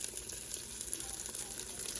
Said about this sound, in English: Hear that sizzle? They're perfectly cooked.